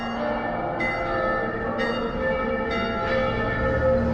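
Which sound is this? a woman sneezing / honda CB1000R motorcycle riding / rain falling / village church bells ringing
village church bells ringing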